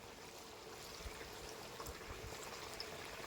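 Water is poured into mutton curry cooking in a clay pot, a faint, steady, close pouring and trickling wash lasting a few seconds, with no talk.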